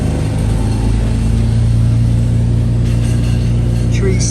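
A tree chipper next door drones loudly and steadily, a constant low mechanical roar that fills the whole stretch.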